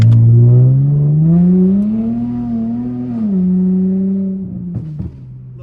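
A car engine revs steadily in a sustained, loud drone that rises and falls slightly while the car slides sideways on a rain-wet road with traction and stability control off, easing down near the end.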